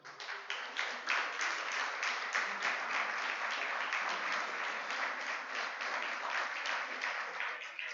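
A Spanish-speaking church congregation applauds during a sermon, steady sustained clapping of many hands at moderate volume that holds evenly from start to finish, slightly thin and muffled in tone.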